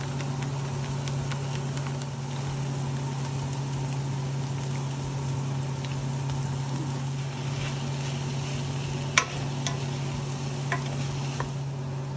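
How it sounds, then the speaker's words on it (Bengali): A ghugni spice base of ginger garlic paste, green chili, turmeric, chili powder, cumin and coriander powder fries in a pan. A soft, steady sizzle sits over a constant low hum, broken by a few faint spoon clicks. "আদা রসুনের পেস্ট আর কাঁচা লঙ্কা দিয়ে, সাথে হলুদ, লঙ্কা গুঁড়ো, কিউমিন আর কোরিয়ান্ডার পাউডার দিয়ে ভালো করে বেস মশলাটা রেঁধে নেওয়া হলো।"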